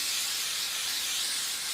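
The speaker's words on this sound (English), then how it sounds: "I'm just going to spray baste the fabric to the front and back of my large square." Spray baste adhesive sprays from an aerosol can onto fabric in a continuous close, airy hiss that holds steady for the whole moment.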